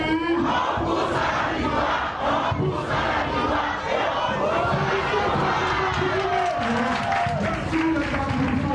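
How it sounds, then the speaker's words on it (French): Large crowd welcoming the national delegation, a dense continuous roar of many voices shouting and cheering at close range, with a voice speaking over the din. "C'est une grande foule qui accueille la délégation nationale"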